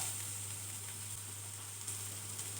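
Carrots sizzling in a pan for a spicy Telangana-style carrot fry, a soft, even frying hiss heard close and continuous with no voices.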